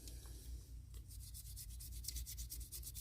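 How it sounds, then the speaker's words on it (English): Sandpaper rubbing back and forth over a cast resin piece, steady repeated strokes up close, fairly quiet against a low background hum. "Sand that down"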